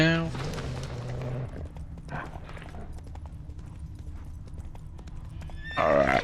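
Horse in the video game Witcher 3: a loud whinny opens, then rhythmic clip-clopping hooves gallop steadily at close range, and another sharp neigh bursts in at the end.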